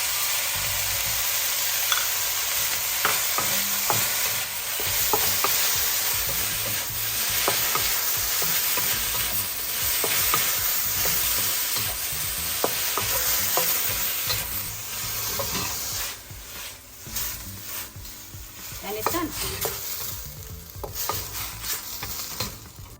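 Broccoli stir fry sizzling loudly in a pan as pre-mixed sauce goes in around the edge, a continuous close crackle with stirring and utensil scrapes, no talking.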